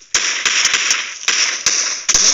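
Several sharp pistol shots in PUBG Mobile ring out in an irregular burst, loud and close, with brief gaps between the cracks and no talking.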